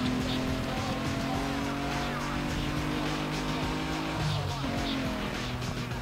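A car drifts in Need For Speed Underground 2, its engine droning steadily with the tires squealing through the slide, continuous and loud for the whole stretch.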